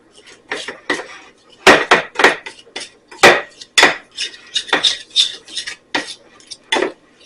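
Butter and seasoning salt being worked together in a bowl with a utensil, giving a string of sharp scraping and clinking strokes in an uneven rhythm, close and fairly loud.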